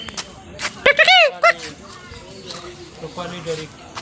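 A young bird calls at Assam State Zoo in Guwahati with a few short, bright, whistled chirps in quick succession, while a person talks nearby.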